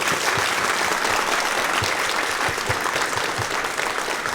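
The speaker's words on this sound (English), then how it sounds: "On the count of three, we gonna clap it up for y'all." Audience at a sports banquet claps for one another, a continuous, loud and even burst of applause filling the whole stretch.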